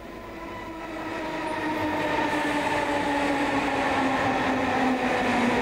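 A Buenos Aires subway train rumbles along the tracks, its steady mechanical hum and tonal whine growing louder and holding, with no voices.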